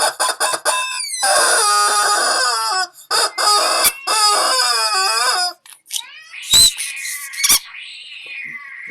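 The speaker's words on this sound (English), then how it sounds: "do we have a chicken alert," A chicken alert sound effect plays loud, rapid clucking and squawking from a chicken or rooster in repeated bursts, followed by a few sharp higher-pitched squawks, with no voices.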